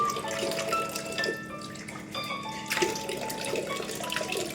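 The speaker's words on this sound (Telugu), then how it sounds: "ముందు వాటర్ వేయండి" Water runs from a tap in a household setting, a steady close splashing stream with faint dripping and scattered light knocks, with no voices.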